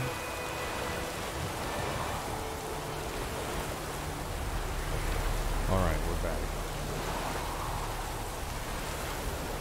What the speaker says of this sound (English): Yeah, it's raining, man.